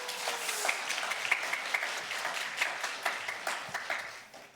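A fairly small audience claps at a university chapel service while a pastor is welcomed. The scattered applause is quieter and thinner, with a few distinct sharp claps, and it fades out toward the end.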